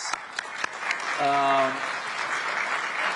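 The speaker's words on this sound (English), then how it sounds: "I think it deserves an applause." Audience applause at the Davos forum swells in a hall with a brief overlapping voice, building then holding steady.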